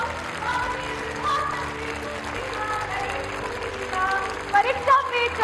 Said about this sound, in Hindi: तालियों की जोरदार गड़गड़ाहट।